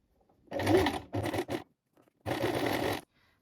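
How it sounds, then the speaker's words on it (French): A sewing machine runs a straight stay-stitch along a T-shirt V-neckline in three short, close whirring bursts separated by brief pauses, set against near silence. "en faisant donc une piqûre de maintien à 2 mm du bord au point droit"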